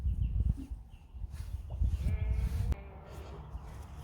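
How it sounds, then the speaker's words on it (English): A sheep caught in a fence bleats in a few short, strained calls over steady rumbling wind and outdoor background noise, with a sharp knock partway through. "Oh, it's a sheep stuck in a fence."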